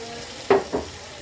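Pre-fried potatoes and cauliflower are dropped into sizzling masala, giving two quick, close bursts of hiss and scrape over a quiet background.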